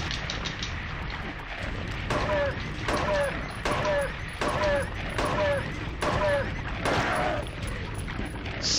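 Gunshots in Silent Hill 3, roughly seven sharp shots fired in a steady, evenly spaced series with brief echoing tails, loud and close over low ambient game noise.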